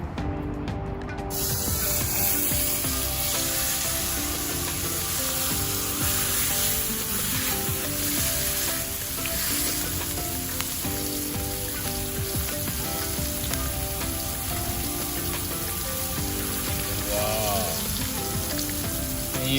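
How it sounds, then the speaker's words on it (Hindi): Fish fries in oil with masala on a hot tawa griddle, giving a loud, continuous crackling sizzle that runs throughout, with a brief voice near the end. "पहले तवे पे थोड़ा सा ऑयल लगा लेते हैं ताकि फ़िश चिपके ना"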